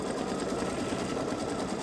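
Babylock Solaris embroidery machine stitching, a fast even mechanical hum with rapid needle pulsing, steady and close with no pauses.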